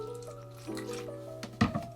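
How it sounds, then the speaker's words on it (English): Diluted cleaning solution poured into a plastic cup, a short close liquid trickle and splash over a steady background hum, with a brief louder splash near the end. "I'm going to pour about half into the plastic cup"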